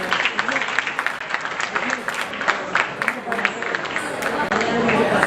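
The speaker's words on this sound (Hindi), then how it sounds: "तालियां बजाते रहे प्लीज।" An audience at a national cultural camp and festival claps steadily and irregularly, with crowd murmur and chatter mixed in throughout.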